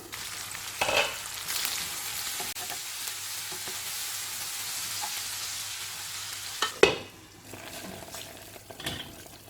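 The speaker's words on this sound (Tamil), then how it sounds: "காய் நல்லா வெந்துருச்சு மிளகாய்த்தூள் மல்லித்தூள் சேர்த்து வதக்கணும்" Vegetables sautéing in a pan with chili powder and coriander powder for a Chettinad thin tamarind curry, with a steady close sizzle and frying hiss and occasional stirring scrapes, no voices.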